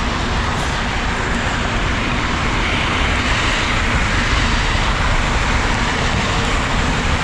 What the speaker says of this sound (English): A lot of traffic, busy road.